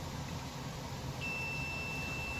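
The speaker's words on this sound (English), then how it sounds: "So we want to make sure that we have that beep." A steady high electronic beep from a multimeter continuity test on compressor wiring starts halfway through and holds, over a low background hum.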